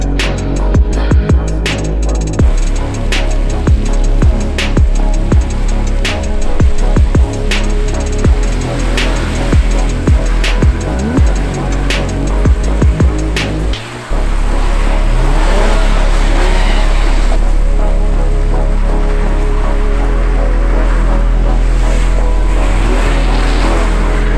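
A Mercedes-AMG A35 pulls away from a standing start, its four-cylinder engine roaring loudly and rising through repeated gear changes, then settling into a steady, close drone of engine and wind.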